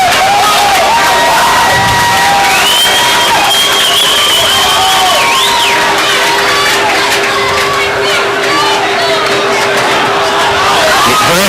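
A big crowd at a high school football game between rivals Corbin and North Laurel cheers and shouts continuously at Campbell Field, loud and sustained, with whoops and some applause.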